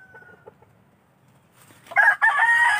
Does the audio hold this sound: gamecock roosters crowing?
yes